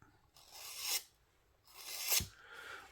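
A Miguron Pelora knife with a G10 handle and 14C28N steel blade is drawn across a sharpener along its steep bevel: two distinct rasping strokes, each building to a loud scrape, separated by a brief pause.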